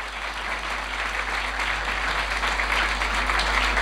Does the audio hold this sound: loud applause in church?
yes